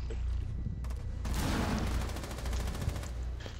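Gunfire in Rainbow Six Siege during a ranked match, a rapid automatic burst of shots rattling out after a quieter opening with a few single reports, heard under game ambience.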